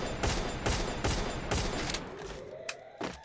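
Several heavy gunshots burst in quick succession in a video game, loud and close, followed by a couple of sharper isolated shots near the end.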